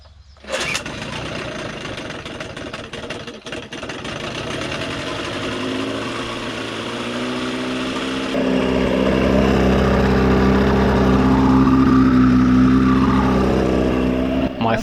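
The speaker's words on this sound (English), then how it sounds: "so I was able to try the engines in the water." Boat engines, freshly fitted with new impellers after 20 years stored in a barn, start up and run in the water, building to a loud, steady, close drone with a deeper rumble joining partway through.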